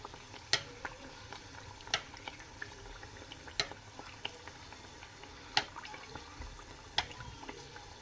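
Hot oil poured over food, sizzling in sharp bursts with several crackling spikes over a low steady hiss, close by.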